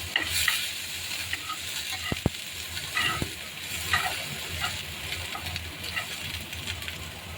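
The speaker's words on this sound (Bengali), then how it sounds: "গাজরটা একটু হালকা ভেজে নিচ্ছি" Large-cut carrots lightly fry in a pan for a quick children's tiffin dish, with a close, continuous sizzle, repeated scraping from stirring and a few sharp clicks of the spatula on metal.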